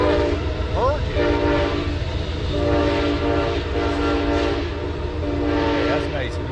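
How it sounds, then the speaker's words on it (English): An Amtrak train passes close by, its loud horn sounding in long blasts over a continuous heavy rumble and rail noise, with voices faintly under it. "is that a train? Yeah, train."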